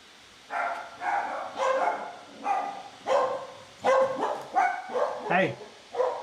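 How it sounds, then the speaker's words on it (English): Several dogs barking in a live-stream room, a run of roughly ten sharp barks and yips in uneven bursts, close and fairly loud, with a whimpering note near the end. "My doggies be barking. Literally, my doggies be barking."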